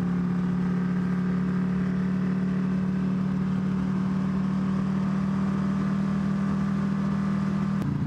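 Buell 1125CR naked motorcycle idling steadily nearby, a low, constant engine drone with a faint rise near the end.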